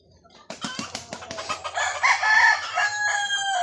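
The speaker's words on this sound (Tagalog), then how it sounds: "Para atong mga manok diri mga idol" Gamecock roosters crow loudly and close by in a backyard, several overlapping calls rising in a busy chorus with some clucking at the start.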